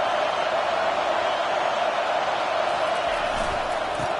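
A college football stadium crowd roars steadily as the defense is backed up at the goal line, a dense, continuous wash of distant cheering.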